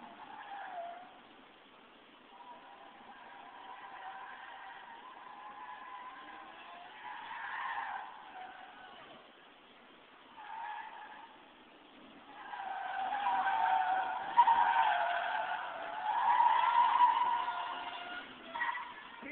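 A truck skids through an autocross course, its tires squealing in long swelling bursts that grow louder and more sustained toward the end, heard from a distance through thin, band-limited sound.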